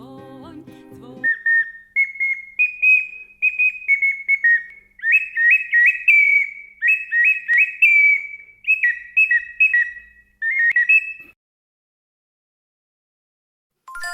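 Bright warbling trills from a small bird-shaped toy whistle, blown in repeated bursts that mimic birdsong, loud and close, ending in silence.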